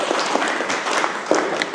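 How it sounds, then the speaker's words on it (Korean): Applause from a seated audience at a poetry reading event, a short, fairly close burst of many hands clapping with a few sharper individual claps, continuing steadily without speech. "박수로 청해 듣겠습니다."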